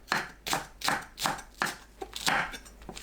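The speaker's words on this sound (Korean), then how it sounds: "파를 쫑쫑 썰어줍니다." Knife chopping green onions finely on a cutting board, a quick run of crisp, evenly spaced chops repeated in short bursts, close and clear with no talk.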